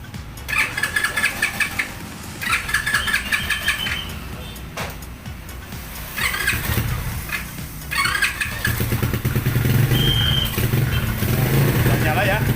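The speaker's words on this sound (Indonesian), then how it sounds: "Langsung kita tes. Coba di starter." RXF 125 mini trail motorcycle engine turned over by the electric starter in several attempts, then catching and running steadily, with a person talking throughout.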